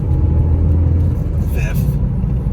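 A 2006 Mazda Miata LE with a Mazdaspeed muffler drives around town, its engine rumbling low and steady as it shifts up through the gears, with a driver talking over the drone.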